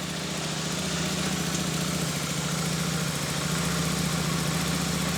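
A Royal Enfield Super Meteor 650 motorcycle with a newly fitted rear belt drive idles steadily, a loud, even low throb that holds without a break and has no voices over it.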